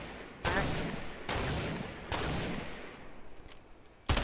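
Gunfire in a video game cracks out in several loud, sharp bursts spaced about a second apart, each trailing off into a rough decaying tail, with a final sudden shot at the end.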